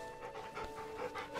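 Dog panting in Final Fantasy XVI, a quick run of soft breathy pants under a steady musical drone, close and moderately loud for just over a second.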